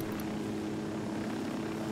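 A helicopter in Ghost Recon Wildlands drones with a steady, dense rotor and engine roar, loud and close throughout the short stretch, with no speech over it.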